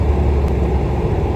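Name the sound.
1998 VW New Beetle engine revving high while driving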